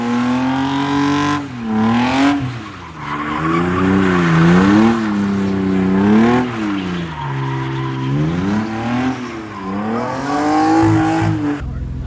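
A BMW engine revs loudly, rising and falling in pitch several times, then the clutch is dumped and it pulls away hard with a sustained roar and tire squeal.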